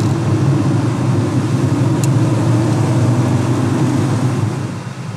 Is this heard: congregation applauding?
no